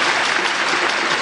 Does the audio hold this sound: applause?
yes